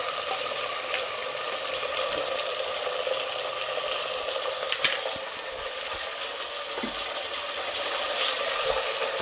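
Radish pieces fry for a South Indian sambar, giving a steady, even sizzle that runs throughout without pause, with a few faint stirring clicks and no talking.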